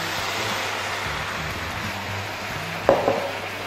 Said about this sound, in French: Et là, on va remuer comme ça avec le poignet.